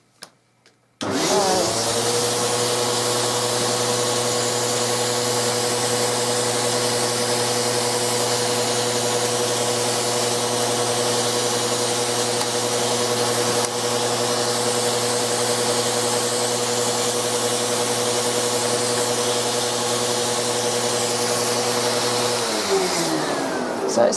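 A small vacuum machine cleaning thread dust from a sewing machine whirs on loudly and steadily for about twenty seconds with a strong hum, close, then cuts off at the end.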